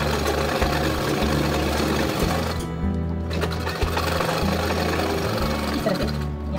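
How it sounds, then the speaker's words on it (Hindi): An electric sewing machine stitches the collar of a ladies' shirt, running in rapid mechanical bursts with short pauses between runs, loud and close. "तो देखिए हम ऐसे सिलाई लगा रहे हैं"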